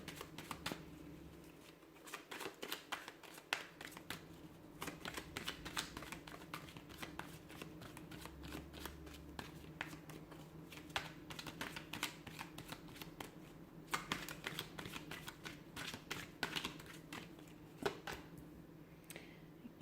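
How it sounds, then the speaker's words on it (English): Tarot cards being shuffled over and over in quick riffling bursts, close up, with brief pauses between rounds and no talking. "we'll give the cards a shuffle and see what messages do you need to hear"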